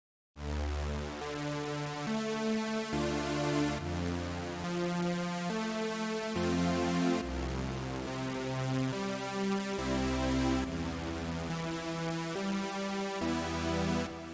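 A synthesizer in FL Studio plays a chord as a repeating arpeggio, stepping up from the lowest note through the chord tones, shaped by a volume envelope into steady rhythmic pulses, loud and sustained with no voice.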